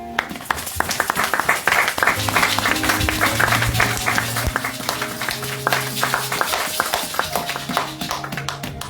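A church congregation applauds during a sermon, with dense, sustained clapping for about nine seconds, loud and close, and faint keyboard-like tones held underneath.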